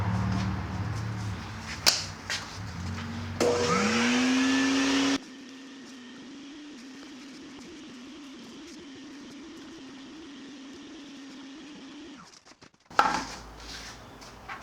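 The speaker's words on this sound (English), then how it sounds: "I'm going to go through again with the shop vac, now that I can reach a little bit better" A shop vac cleans inside the case of a 130-year-old piano. After a few clacks, its motor whines up, then settles into a muffled, steady drone for several seconds before cutting off, followed by knocks and clatter.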